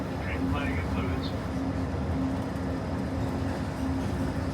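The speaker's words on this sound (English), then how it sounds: "you're traveling aboard Monorail Red on a one-way trip to Tomorrowland" Disneyland's Monorail Red rides toward Tomorrowland with a steady, continuous rumble and whine of the moving train filling the cabin. A recorded narration voice talks over it throughout.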